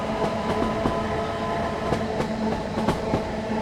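A train running in Train Sim World 5, steady rolling rumble with rhythmic wheel clicks over rail joints and a faint sustained tone, no talking.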